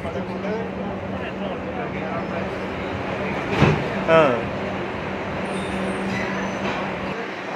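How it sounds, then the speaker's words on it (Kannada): Garib Rath Express pulling into Banaswadi railway station, with a steady low rumble and hum of the train throughout, a couple of brief louder clunks near the middle, and faint high squeals and voices in the background. "ಗರೀಬ್ ರಥ್ ಎಕ್ಸ್ಪ್ರೆಸ್ ಈಗ ಬಾನಸವಾಡಿ ರೈಲ್ವೆ ಸ್ಟೇಷನ್ಗೆ ಬಂದಿದೆ"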